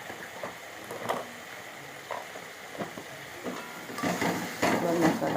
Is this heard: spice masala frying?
yes